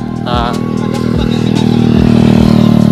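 A stock-engine underbone motorcycle with a homemade DIY exhaust pipe idles loudly up close with a buzzy, uneven drone, rising slightly after a brief throttle blip near the start.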